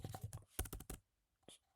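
Rapid clicking keystrokes on a computer keyboard while typing router configuration commands, a quick run of taps, a brief pause, then a single louder key press.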